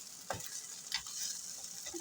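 A slice of bread toasts in a pan with a soft, continuous sizzle and faint crackle, punctuated by a few light scrapes or taps as it is moved, quiet and close without talking.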